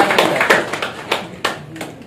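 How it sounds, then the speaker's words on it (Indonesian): Umrah pilgrims at a manasik session in Madinah clap their hands in a loose, uneven burst of separate claps, fairly close and moderately loud, with no speech over it. "Ya, tepuk tangan sekali lagi."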